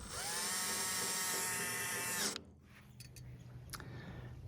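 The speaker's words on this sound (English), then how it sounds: "So I can drive all these screws in with this combination right there quickly." A power drill with a driver bit runs steadily and loudly while driving screws into the roof of a PAMAPIC 10x12 metal hardtop backyard gazebo, then stops abruptly, leaving a quiet background with a few brief clicks.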